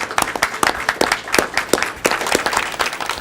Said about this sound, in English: So you get a round of applause.